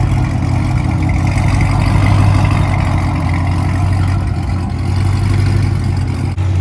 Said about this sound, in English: Get a little intake sound.